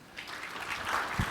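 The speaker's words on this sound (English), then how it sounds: "Warm round of applause for Alan, please." An audience claps in a warm round of applause at a morning session, a steady dense patter of many hands filling the room for a brief moment.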